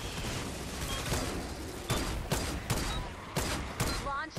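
Sniper rifle shots in the game Fortnite: Save The World ring out as sharp, spaced cracks amid a dense backdrop of continuous combat noise, moderately loud with a faint electronic warble at the end.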